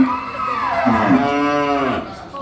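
A cow on a livestock farm gives one long, loud, close moo, rising and falling in pitch over about two seconds, with faint background noise.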